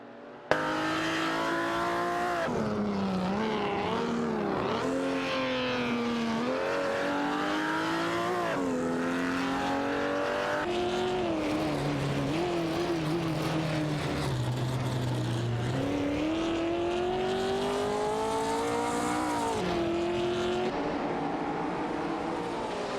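Mercedes-Benz 300 SLR and Maserati 450S race cars roar through a race, their engines revving and shifting in continuous, loud, fluctuating tones with occasional tire squeal, sustained throughout.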